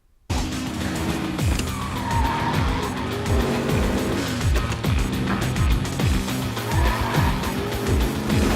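Race cars roaring through a film's death race sequence, loud continuous engine drone with repeated rising and falling revs and tire squeals, mixed with a dense soundtrack.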